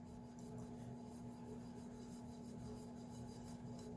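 A cloth patch rubs excess finish off a surface in a continuous, soft scrubbing swish, steady and close, over a faint constant hum.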